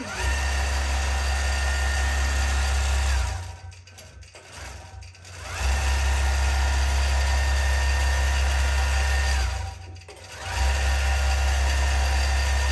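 An embroidery machine stitches a satin mermaid tail with a steady mechanical hum and rapid needle chatter, briefly pausing twice before resuming its continuous close-up whir.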